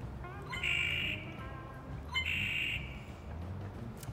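A red-winged blackbird sings two buzzy, trilled phrases about a second and a half apart, clear and fairly close over a steady background hiss.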